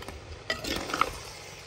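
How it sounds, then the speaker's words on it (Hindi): Mutton being stir-fried in a pot with raw onion added, a soft continuous sizzle with scraping and stirring strokes and a light metallic clink partway through. "गोश्त को भूनते हुए थोड़ा सा कच्चा प्याज भी डालेंगे"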